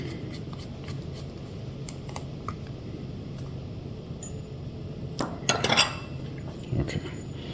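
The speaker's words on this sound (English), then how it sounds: "Now we have all 6 silver screws. And we removed the back cover." Small metal screws being undone and lifted from the back cover of a Nintendo Switch, giving close, light ticks and clicks. A brief burst of rattling clinks follows near the end, with no talking.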